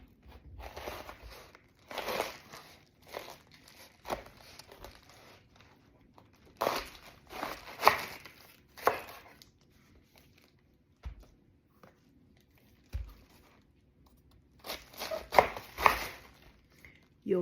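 A knife chops through cabbage for sauerkraut, with crisp, irregular crunching cuts in short bursts separated by pauses, close and moderately loud over a quiet room.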